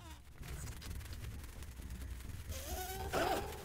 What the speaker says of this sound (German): Die ollen Fliegeviecher.